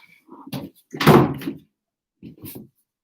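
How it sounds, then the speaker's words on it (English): A door bangs repeatedly indoors, a few hollow thumps and knocks of varying loudness with short gaps between them, while a person speaks briefly alongside. "my door's banging, it's really annoying me"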